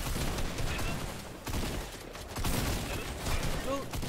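Rapid bursts of gunfire from a Fortnite match in a competitive Razer Cup tournament, crackling steadily for several seconds as a layered fusillade, with players talking over it.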